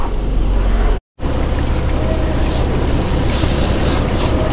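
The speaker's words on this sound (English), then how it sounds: "Just doing the final rinse here." High-pressure water spraying during the final rinse at a truck wash, a loud, steady rushing hiss that cuts out briefly for a moment before resuming.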